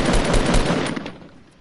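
Burst of rapid Fortnite gunfire, loud and close, firing in quick succession for about a second before tailing off into a fading echo.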